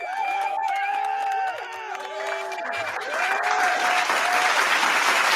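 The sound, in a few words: applause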